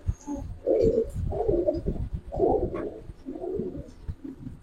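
Pigeons of fancy breeds kept at a home loft coo in a series of low, throaty, rolling calls, close by and fairly clear, with no talking.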